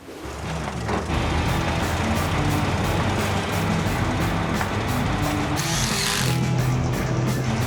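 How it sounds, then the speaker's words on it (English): A loud, steady power drill grinds continuously, driving helical foundation posts into the ground, a heavy machine engine droning underneath throughout. "let's drill away"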